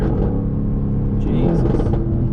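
A Mercedes-AMG GT C pulls hard, its engine note a deep, steady rumble and roar from inside the cabin, with the pitch rising slightly partway through.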